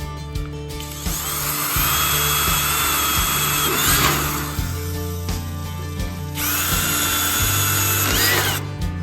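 A power drill whines loudly through the metal of a 1954 Chevy truck, enlarging holes in two long bursts, with a short pause between them and grinding chatter under the motor.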